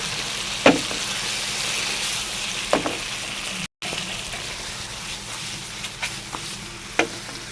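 Chicken ghee roast with salt cooks over medium heat in a pan, giving a steady sizzle and frying hiss throughout, broken by a few sharp spoon-against-pan stirring clicks and one brief dropout.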